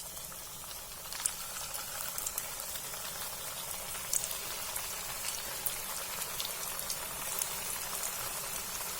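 Potato tikki balls frying in hot oil in a kadhai, a steady soft bubbling hiss with a few sharp pops now and then.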